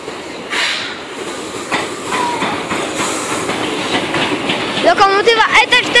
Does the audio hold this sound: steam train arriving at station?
yes